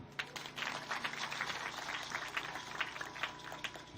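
Steady applause from a crowd at a school end-of-year celebration in Tiezankro, dense overlapping claps with a few sharper hand claps standing out, continuous and fairly distant.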